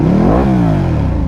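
A 2021 Ducati Panigale V2 motorcycle with a full Akrapovic titanium exhaust revs up sharply, its pitch climbing to a peak then falling away as the throttle closes, loud and close with a deep, rasping growl.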